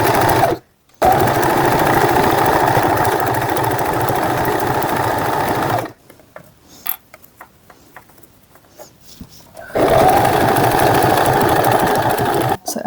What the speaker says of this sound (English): And now I can sew all the way down, just removing my clips as I go.